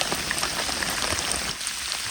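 Heavy rain falls steadily on a surface during a fishing trip, a dense, even hiss with scattered drop patter, continuous and close throughout with no voices.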